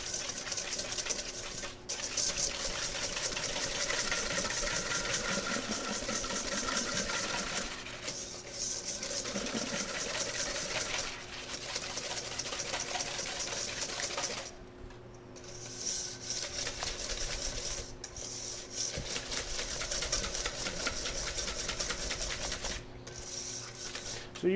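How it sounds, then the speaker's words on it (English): Electric mixer whisking eggs and sugar for a rhubarb tart with streusel topping, a steady close mechanical whir with rhythmic variations as the beaters move through the bowl, briefly stopping partway through. "Now we're just going to whisk it together until it is thick and fluffy."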